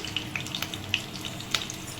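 Chopped green chillies fry in about two spoons of hot oil in a pan, with a soft, quiet sizzle broken by small sharp pops and spits over a couple of seconds.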